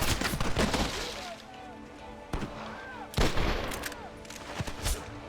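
Gunfire in the Western video game Red Dead Redemption: a loud cluster of rapid shots at the start, then several separate heavy bangs spaced over a few seconds, with faint whistling ricochets between them.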